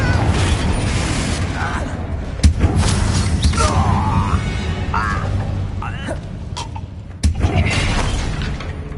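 A Confringo fire-blast spell cast in Hogwarts Legacy bursts over a dense bed of game ambience and music, with two sharp impact hits standing out amid the steady rumble and whooshing magical swirls.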